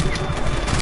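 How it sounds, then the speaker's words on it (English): A machine gun fires continuously in the video game Just Cause 3, with a loud, dense, rapid burst close up that fills the whole short moment. "I said I wanted to use the machine gun."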